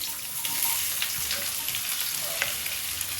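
Ground onion paste frying in a pan for a mutton biryani, with a steady, close sizzle and light stirring scrapes, fairly loud and continuous, and no talking.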